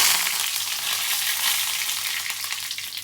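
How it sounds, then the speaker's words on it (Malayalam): Mustard seeds and curry leaves fry in hot oil for a cherupayar curry, a loud continuous crackling sizzle that stays close and steady throughout, with no talking. "എണ്ണ ചൂടാകുമ്പോഴേ കുറച്ച് കടുക് ഇട്ട് കൊടുക്കാം. ആവശ്യമുണ്ടെങ്കിൽ കറിവേപ്പിലയും കുറച്ച് ഇട്ട് കൊടുക്കാം."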